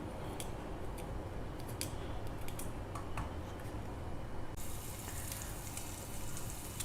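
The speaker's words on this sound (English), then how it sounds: "Meanwhile my garlic is little fried" Garlic frying in a pan for chilli mushroom soup gives a steady, close sizzle with scattered sharp clicks and taps over it, with no talking.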